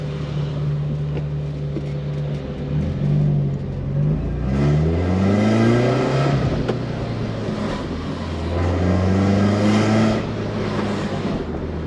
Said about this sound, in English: I'm getting a little more used to the first to second gear throw right now.